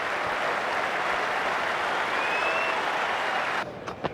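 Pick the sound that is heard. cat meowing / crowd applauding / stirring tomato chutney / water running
crowd applauding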